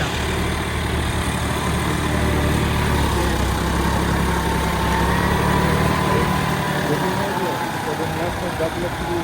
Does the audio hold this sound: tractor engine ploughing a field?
yes